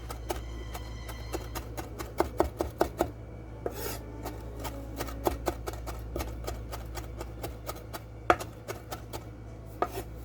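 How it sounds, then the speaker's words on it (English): A knife finely minces fresh parsley on a cutting board, making rapid, uneven chopping taps close by that continue steadily throughout with short pauses and no talking. "I'm just going to mince these up really fine, just like this."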